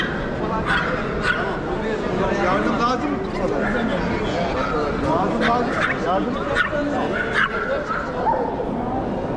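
Kangal shepherd dogs in rural Turkey barking and yipping repeatedly, with some whimpering, over a steady noisy background mixed with indistinct voices.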